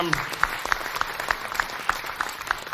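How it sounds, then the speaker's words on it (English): Audience applause at a memorial concert for a song Joe has just performed, a steady patter of clapping with distinct individual claps standing out rhythmically, fairly close and moderate in volume. "I should actually ask you to give Joe another round of applause, because that was beautiful"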